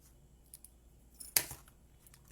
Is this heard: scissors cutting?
yes